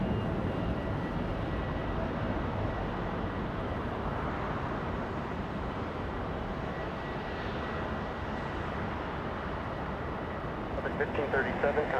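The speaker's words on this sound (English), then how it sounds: "Special livery there, Avianca A330 flying in from Bogota, Colombia." An Avianca Airbus A330 airliner in special livery arrives at Los Angeles International Airport from Bogota, its engines producing a steady, distant broadband roar that persists throughout while someone commentates over it.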